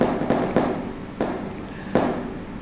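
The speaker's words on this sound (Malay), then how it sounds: "Masih ada mercun lagi." Firecrackers go off in several sharp, separate pops over about three seconds, set against a steady noisy background with no talking.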